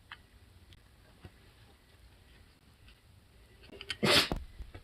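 A single sharp sneeze bursts out near the end, loud and close, after several seconds of quiet room sound with faint ticks.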